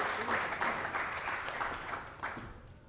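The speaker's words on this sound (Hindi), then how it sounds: "तालियां रुकनी नहीं चाहिए।" Audience applause at the NTA Awards 2024 open mic event, a sustained, moderately loud roll of many hands clapping, tapering slightly toward the end, with faint talk in the background.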